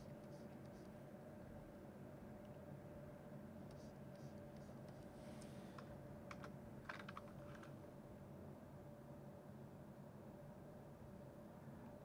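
Keys clatter on a computer keyboard in short quick bursts, faint and distant over a steady low hum in a quiet room.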